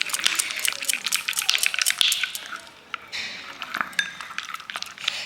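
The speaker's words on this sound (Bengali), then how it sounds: "এবার এই টক দইয়ের সাথে হলুদটাকে খুব সুন্দর করে আমি মেশাবো।" A spoon stirs turmeric powder into sour yogurt in a bowl, giving steady close scraping and light clinking against the bowl, moderately loud with no talk.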